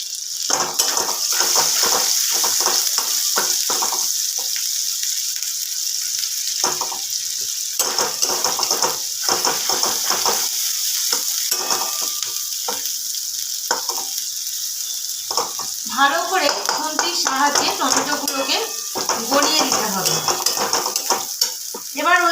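Spiced cauliflower curry stirred and fried in a pan with tomato added, a steady sizzle under repeated spoon scrapes and clinks against the pan, close and continuous, with no voice.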